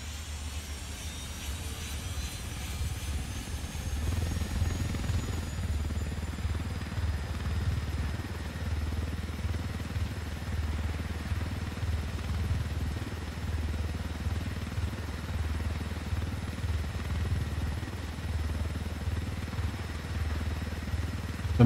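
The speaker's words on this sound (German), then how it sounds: "Diesen Hubschrauber." A helicopter in the video game Ghost Recon Wildlands drones steadily with a low, pulsing engine rumble throughout, at moderate loudness with no talking over it.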